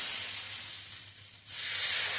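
Suran yam slices on a roti griddle give a soft, close hiss that fades briefly in the middle and then rises again.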